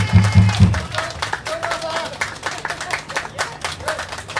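Audience clapping for the bassist during band member introductions at a rock gig in a small live venue, scattered claps heard under someone speaking, with a low band thump at the start.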